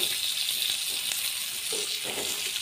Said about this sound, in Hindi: जो मैं प्याज काटी थी उसमें डाल दूँगी, और इसको भी थोड़ा सा हल्का भून लूँगी